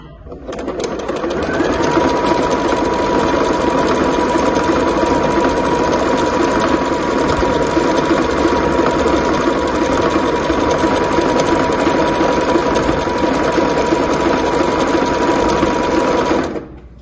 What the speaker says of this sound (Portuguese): Vai deixando a máquina puxar o seu tecido, tá?